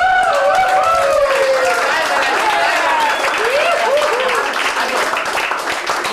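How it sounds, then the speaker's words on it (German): An audience at a 1987 award ceremony for a mosquito race near Erfelden claps steadily in a dense, loud wash of applause, with voices chattering and calling over it throughout. "Also, wir haben auch an der falschen Stelle geklatscht."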